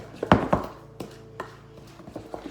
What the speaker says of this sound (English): You want to beat this for about 1 minute.